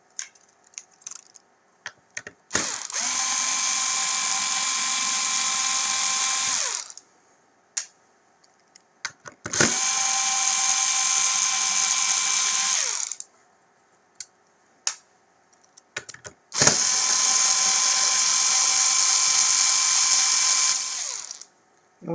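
A power tool backs screws out of a TAO/LX7 stacker's motor housing gearbox in three separate bursts of high-pitched whirring and ratcheting, each several seconds long with quiet pauses between them, and clicks and light handling noises in the gaps.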